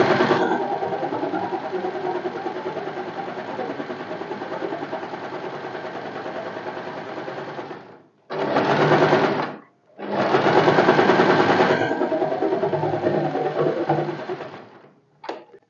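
A sewing machine double stitches a sleeve seam, running hard for about eight seconds, pausing, giving a short reverse burst, then running again before slowing to a stop with one last quick stitch.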